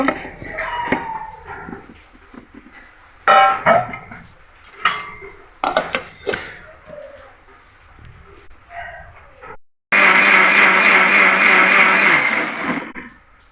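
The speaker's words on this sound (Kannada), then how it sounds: "ಅದಿಷ್ಟನ್ನು ಮಿಕ್ಸಿಗೆ ಹಾಕಿ ರುಬ್ಕೊಳ್ಳೋಣ" After some clattering and handling sounds, a mixer grinder roars loudly and steadily for a few seconds, grinding a thick mango and jaggery mixture with no water, then cuts off.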